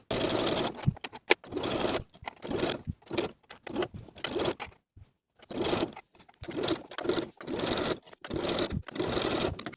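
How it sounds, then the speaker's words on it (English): A sewing machine stitching T-shirt underarm seams at a half-inch seam allowance, running in rapid bursts separated by brief stops, close and steady, with no talk. "Then sew both of these underarm seams with a 1/2 inch seam allowance."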